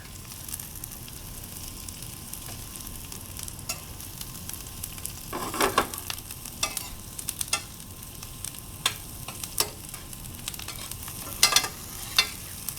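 Onions and garlic fry gently in browning butter, a soft steady sizzle broken by sharper crackles and pops, moderately quiet throughout.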